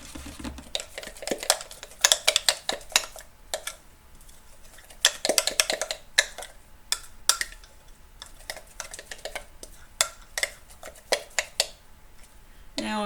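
A homemade sourdough starter is mixed vigorously in a container, giving quick bursts of spoon clatter and scraping against the sides with short pauses between them, close and fairly loud, while a person speaks in the background.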